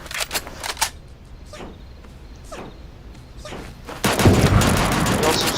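Gunfire from a gun in the Super Animal Royale video game, a few sharp shots early on and then a dense loud burst of rapid fire toward the end, with a player talking over it.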